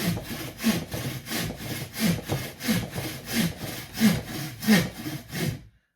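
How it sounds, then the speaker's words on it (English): A bow saw cuts through a tree branch in steady back-and-forth strokes, about nine rasping pulls in six seconds, loud and close with no talking. "First time if you ever use one of these bow saws, I mean, be very careful because they are quite fierce"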